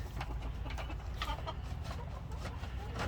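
Chickens cluck repeatedly at close range in a chicken coop, a steady busy chatter of short calls over low background rumble, with no talk.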